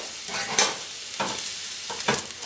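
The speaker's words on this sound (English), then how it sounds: "I'm going to fry up some mushrooms in this" Mushrooms fry in a pan with garlic for a vegan creamy mushroom soup, giving a steady sizzle broken by three loud bursts of stirring and scraping.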